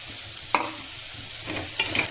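Vegetables sautéing in a pan with tomato, a steady close sizzle broken by a few scraping strokes of a stirring spoon.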